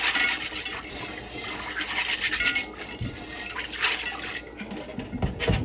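Pinto beans being rinsed and rubbed together by hand in water, a steady close splashing and sloshing with soft scraping textures and brief louder swishes, no talking.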